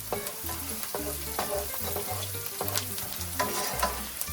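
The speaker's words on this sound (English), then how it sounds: "we're going to give that a slight stir" Onions and pepper frying in a pan while being stirred, a steady close sizzle under repeated scraping strokes of the spoon, without any talk.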